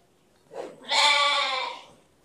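A Garole sheep on a farm gives one clear, wavering bleat close by, rising after a short soft lead-in and then trailing off, with no other sound around it.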